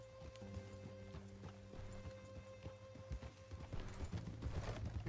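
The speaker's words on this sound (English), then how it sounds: "Micah's horse is just chilling there" Horse hooves clip-clop in a steady trotting rhythm in a video game, fairly quiet and continuous, with a faint low hum of game sound beneath.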